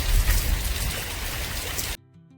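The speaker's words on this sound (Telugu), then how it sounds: "ఇక్కడ ఇంకా వర్షం అయితే చాలా భయంకరంగానే ఉన్నది ఈరోజు" Heavy rain pouring down in a hilly spot surrounded by trees, a dense, steady hiss for about two seconds before cutting off abruptly to faint tones.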